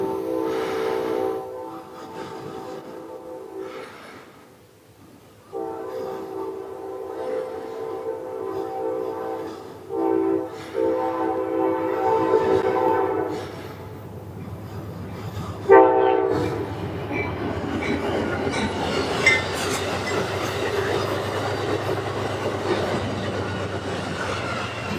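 An Amtrak passenger train on the Borealis route rolls past, its horn blaring in long sustained blasts before the rumble and clatter of cars swells loudly and continues.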